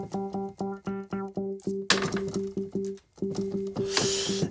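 A synth pattern plays repeated notes with a sharper, more resonant filtered tone that sweeps and squelches, pausing briefly before the rhythm resumes.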